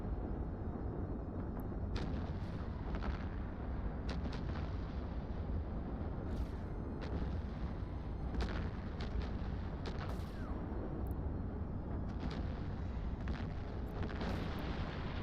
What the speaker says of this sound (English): Whoa. It blew up.